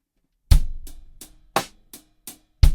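Drum kit struck in a sparse beginner-lesson groove: a few separate hits with sharp attacks and decaying ring, including a deep boomy thump, heard close and alone with no talk.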